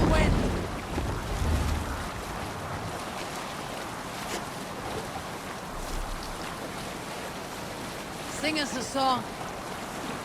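Wind and sea wash steadily around a Viking sailing ship at sea in Assassin's Creed Valhalla, a soft, continuous rushing bed beneath a brief spoken line and some faint voices.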